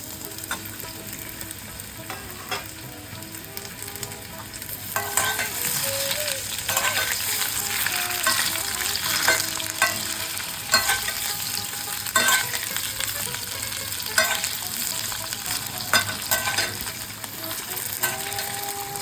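Diced potatoes frying in oil with tempering spices, a low sizzle that grows louder after the potatoes go in, with intermittent scrapes and clinks of stirring, no talk.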